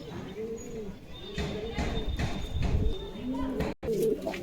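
A large single male pigeon coos in a few soft, rolling calls close by, while someone talks over it and a brief clatter cuts in near the end.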